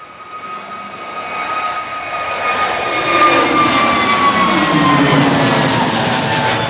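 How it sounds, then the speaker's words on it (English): An EasyJet Airbus A320neo jet departing Manchester Airport, its engine roar swelling steadily to a loud, sustained whine with rising tonal hums, heard from nearby with no talk. "EasyJet 2269 to Paphos going now."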